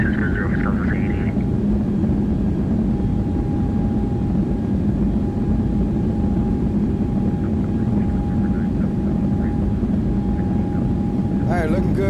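Simulated Airbus A320neo jet departing Baltimore in X-Plane 12, a steady loud low engine roar with a faint constant tone running throughout, lightly loaded aircraft climbing out, no voices over it.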